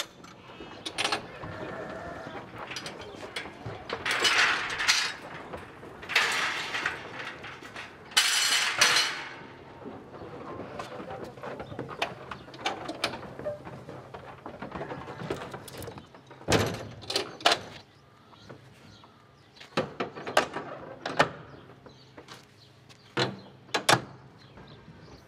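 Metal doors and a fold-up loading ramp on a livestock trailer used for sheep are swung shut, giving a series of loud clanks, rattles and latch bangs at close range.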